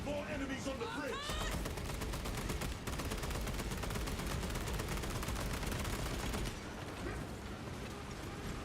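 Lasgun fire in a video game battle on a bridge: dense, nonstop rapid volleys with clattering mechanical texture, loud and continuous throughout.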